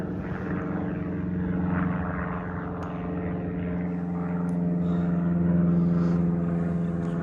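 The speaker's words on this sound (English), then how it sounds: "There's an aeroplane up in the sky." A small aeroplane drones steadily high overhead, a continuous low engine hum that swells slightly and holds throughout, heard from the edge of a quiet village churchyard.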